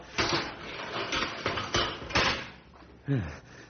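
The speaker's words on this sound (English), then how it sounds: "Open the cage door, Sam." A cage door is worked open in an old radio drama: a series of clattering metallic knocks and bangs, a few sharp hits spaced apart, with a voice briefly heard near the end.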